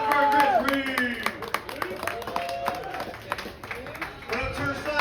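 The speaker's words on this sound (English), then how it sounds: "Everybody give a round of applause for Chris Reed" An audience applauds comedian Chris Reed at a comedy show at Turnstiles in Grand Rapids, with moderate clapping and crowd noise mixed with cheers and talking voices.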